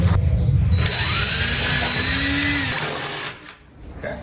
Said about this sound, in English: Here's the drill. Okay, I'll screw my side first. I'm gonna put 2 screws in